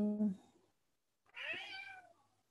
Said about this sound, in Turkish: Kedimiz bağırıyor.